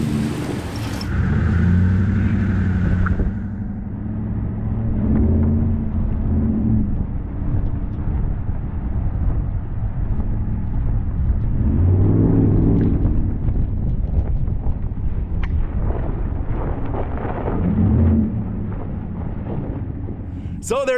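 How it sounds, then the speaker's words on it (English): A 2019 Ram Rebel pickup on BF Goodrich KO2 all-terrain tires drives off-road through snow, its engine a steady low rumble with surges and wind buffeting the microphone throughout. "our BF Goodrich all-terrain KO2s in the snow on our Ram Rebel"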